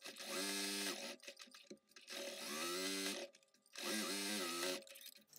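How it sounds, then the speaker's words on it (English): A sewing machine stitches close along the edge of a fabric makeup remover pad in three steady bursts, each about a second long, with short pauses between them and no talking. "let's go back to the sewing machine, really close to the edge"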